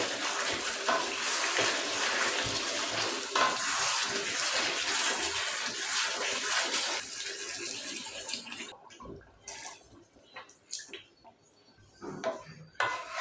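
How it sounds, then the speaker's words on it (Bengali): Water poured into a pot of braised meat in a home kitchen: a steady rushing pour for about eight seconds, then quieter scattered clinks and splashes. "মাংসটা আমার কষানো শেষ। এখন আমি পানি দিয়ে দেব।"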